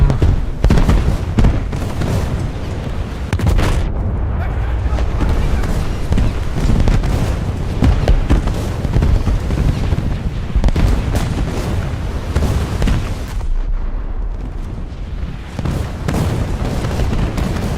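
Battleship turret fire in a naval video game booms repeatedly through a dense, continuous roar of gunfire and explosions, loud and close throughout, with a voice talking over it.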